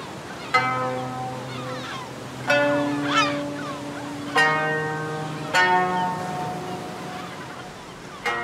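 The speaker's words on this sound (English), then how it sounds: "Today, birds nest on the deserted island in front of the town." Several loud, harsh seabird calls ring out in bursts, honking and cawing over a steady background of Atlantic surf and more distant birds, from a nesting island off Essaouira, Morocco.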